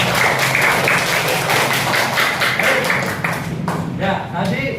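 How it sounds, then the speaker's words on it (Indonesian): A school class gives a round of applause during an Islamic lesson on prayer for the sick, a dense burst of children's clapping that thins toward the end, with faint voices mixed in. "kita beri tepuk tangan untuk Kansa"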